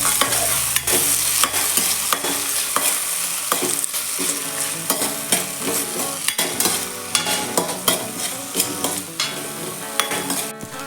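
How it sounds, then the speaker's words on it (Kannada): Tomato frying in a pan for Mangalore-style kadle sukka, stirred with a spatula in quick repeated scrapes and taps over a loud continuous sizzle, close up with no talking. "ಒಂದು ಟೊಮೆಟೊ ತಗೊಂಡಿದ್ದಾನೆ ಹಾಕಬೇಕು ಫ್ರೈ ಮಾಡಬೇಕು ಚೆನ್ನಾಗಿ"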